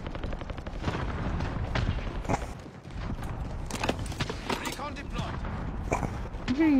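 Gunfire in Call of Duty: Warzone crackles in quick bursts and sharp single shots over a busy battlefield mix, with a helicopter involved, while players talk throughout.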